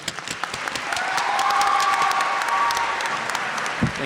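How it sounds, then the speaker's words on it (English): An audience at a lecture applauds the speaker as he comes up, a full burst of clapping with a faint cheer mixed in, steady and close, tapering just before the end. "Let's all give a round of applause for Evan."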